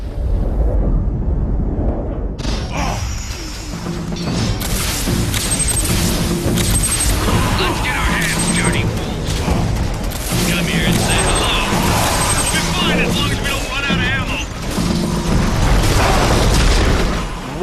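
Heavy booms and explosions from artillery trolls in the game Too Human sound close and loud, rolling on top of battle music and effects throughout, while someone talks over them.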